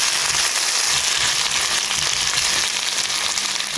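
Tomatoes and green chillies frying with ginger garlic paste, making a loud, dense, continuous sizzle close up with no voices.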